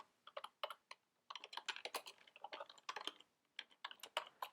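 Fingers type code on a computer keyboard in rapid, uneven clusters of crisp key clicks, close and fairly quiet, with one brief pause.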